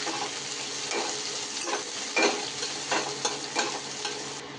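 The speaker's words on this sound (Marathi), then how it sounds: "तर आता आपण लांबडा चिरलेला कांदा आहे, तो आपण तळून घेऊया।" Long-sliced onions fry in a kadhai for veg biryani, giving a steady close sizzle of oil. Occasional sharper scraping bursts come from stirring, and no one talks.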